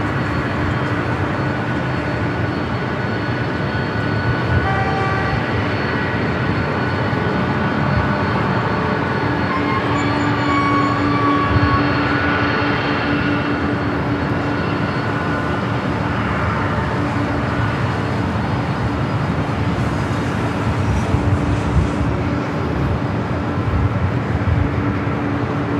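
A Delta Boeing 767-300ER jet at Los Angeles airport gives off a continuous loud, broad engine roar with a steady drone that holds throughout, heard from some distance with no voices.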